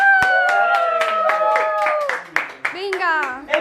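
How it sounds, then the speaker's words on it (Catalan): A group bursts into clapping after a rehearsal for a first musical, a dense patter of hands mixed with voices cheering and shouting over it, close by and lively. "Va, un aplaudiment tots!"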